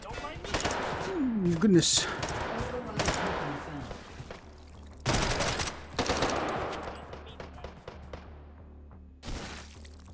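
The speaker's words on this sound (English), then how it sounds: "Oh no, I am getting shot." Bursts of gunfire hitting the player in the VR shooting game Hot Dogs, Horseshoes & Hand Grenades, in its tower mode: several sharp, scattered shots and impact cracks, with a person exclaiming briefly over them.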